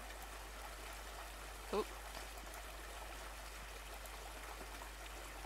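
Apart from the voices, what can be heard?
running stream water trickling in The Divine Speaker video game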